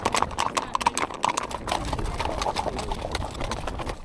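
Icelandic horses walking and tölting along quiet country paths past fields and small farms, their hooves clopping in a quick, even, close rhythm over a steady outdoor background.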